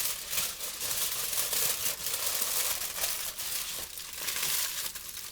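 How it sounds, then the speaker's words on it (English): Aluminum foil crinkles and crumples continuously at close range as it is folded around a piece of thin, crispy toast. The rustling is bright and irregular, with no voices over it. "Take it, put it in aluminum foil."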